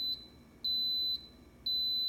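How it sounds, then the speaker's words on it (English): An Instant Pot pressure cooker beeps three times, thin, high, electronic tones, each about half a second long and evenly spaced, sounding clear and close over a faint room hum. "You wait for it to beep 3 times,"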